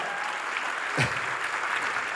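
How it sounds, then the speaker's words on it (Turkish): A theatre audience at the opening ceremony of the Istanbul Film Festival applauds the festival jury in a continuous, even wash of clapping, with a brief voice cutting through midway. "alkışlayalım tabii ki jürimizi"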